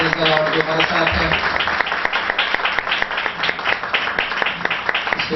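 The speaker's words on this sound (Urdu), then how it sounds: "پی ایم سی چرچ کے لیے، پی ایم سی چینل کے لیے اور خاص طور پہ پاسٹر جاوید مسیح کے لیے زوردار تالیاں بجائیے" A church congregation claps for PMC Church and Pastor Javed Masih: a loud, sustained round of applause with sharp, dense claps, mixed with voices and other sound in the hall.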